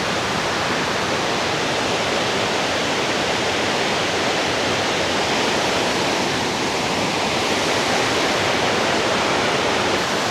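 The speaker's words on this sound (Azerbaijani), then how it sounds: "Və Taylandın ən hündür ikinci şəlaləsidir." A waterfall roars steadily, a dense, unbroken rush of water falling from a great height, Thailand's second-tallest waterfall near Chiang Mai, staying loud and even from start to finish.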